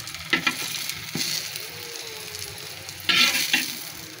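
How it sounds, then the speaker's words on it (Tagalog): Filipino fried eggplant (piniritong talong) in a hot pan gives a steady close sizzle, broken by louder bursts of oil spatter and stirring clatter. "kaya ahunin na po uli natin ang ating piniritong talong"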